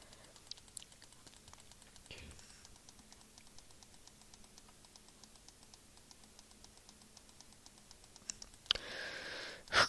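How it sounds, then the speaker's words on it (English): Sparse computer mouse clicks ticking at an irregular pace while playing Cookie Clicker, faint and close, with a brief louder rustle near the end. "Clicking, clicking, click, click, click,"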